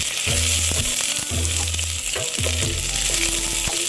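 Onions sizzle loudly in a pan for Filipino chicken adobo in coconut milk, with a steady bright frying hiss and a few rhythmic scrapes and knocks of stirring, close and with no talking.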